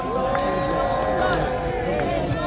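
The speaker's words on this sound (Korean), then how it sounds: "박수 한번 크게 주십시오" A large rally crowd at an outdoor Democratic Party protest applauds and cheers for a lawmaker, a dense, sustained roar of clapping and many voices at steady loudness.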